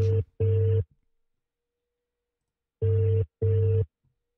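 A telephone busy signal plays after a call cuts out: two short tone bursts, a silent gap, then two more, clean and even.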